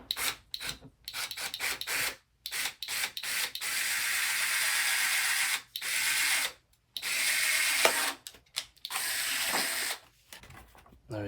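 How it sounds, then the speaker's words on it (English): A drill boring through the plastic dimples of a gloss black rear diffuser on a Dodge Charger, in repeated short bursts and a few longer whining runs separated by silent gaps, close and moderately loud. "I'm just gonna go ahead and drill through these little dimples that this diffuser provides with"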